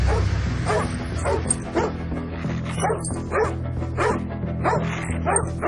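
A dog set on someone by its owner barks loudly and repeatedly in quick bursts, mixed with yips and whimpers, close and continuous.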